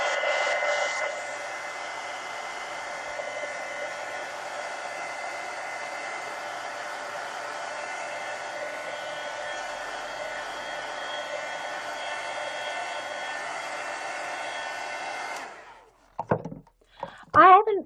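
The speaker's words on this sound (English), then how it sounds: "let me hit this with the heat gun" A heat gun blows steadily and loudly for about fifteen seconds while drying marker ink on an adult coloring book page, then cuts off, leaving brief handling clatter.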